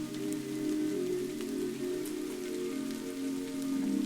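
Rain falling over olive trees, a steady close patter of drops on leaves and surfaces with scattered sharper ticks, continuous and even with no voices.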